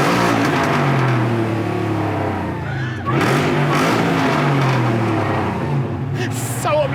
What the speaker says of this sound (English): Would you like a really obnoxious rev?